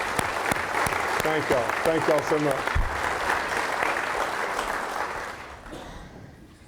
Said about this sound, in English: if y'all would stand and we could give them a great big round of applause, please